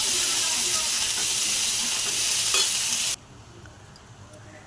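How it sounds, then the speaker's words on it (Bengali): Potato, Malabar spinach and pumpkin being stirred in a hot pan, a loud hissing sizzle with stirring that drops off abruptly to quiet partway through. "দেওয়ার পর আবারও ভালো করে নাড়াচাড়া করে নেবেন"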